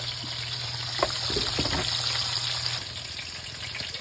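A pot of water at a rolling boil for shrimp sinigang gives off a steady, dense bubbling hiss with occasional louder pops and splashes, continuous throughout without talk.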